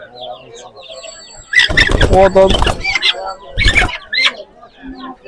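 Chickens at a poultry market in Sabunchu, with loud bursts of clucking and squawking close by, mixed with people talking and a busy market background.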